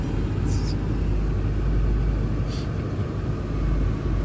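A Honda Civic EG hatchback, fitted with a push-to-start button, runs its engine with a low, steady rumble close by. The sound is even throughout, with no clear surge.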